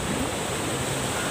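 Waves crashing on a beach close to a seaside hut during a strong monsoon wind, a dense, steady roar of surf with no talking.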